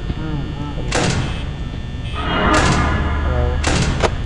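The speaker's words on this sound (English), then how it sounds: "Okay, shut the door." A security door shuts with heavy metallic thuds in the horror game Five Nights at Freddy's 4, loud against a tense ambient hum, with a voice talking over it.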